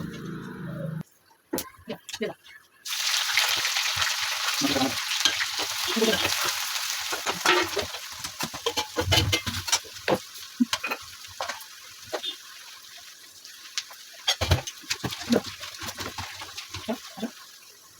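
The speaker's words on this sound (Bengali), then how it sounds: "আগে পেঁয়াজটা সোজা ঢেলে দিয়েছে তো দেখো কিভাবে রান্না করে ও" Onion tipped into a pan and frying for a meat curry, a dense continuous sizzle that starts abruptly and runs loud and close, dotted with stirring knocks.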